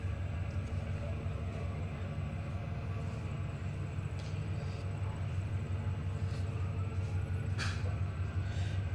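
A train in the Trainz 2022 simulator game pulls slowly into a rail yard, a steady low rumble of engine and rolling stock with faint metallic squeals on top.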